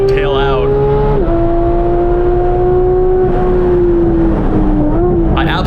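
Close, loud in-cabin roar of a 2018 Porsche 911 GT3 (991.2) flat-six on track, holding a steady high note that dips and recovers through quick gear changes, with someone talking over it.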